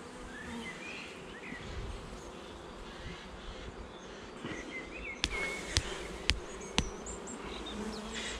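Honey bees buzz around an open hive during a spring inspection at an apiary, a dense, continuous drone close to the microphone with individual bees whizzing past and a few sharp knocks near the end.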